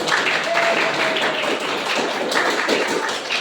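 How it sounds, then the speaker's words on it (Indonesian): Classmates clap for group 2 in a classroom, a sustained patter of many hands with faint voices mixed in. "Kasih tepuk tangan dulu untuk kelompok 2"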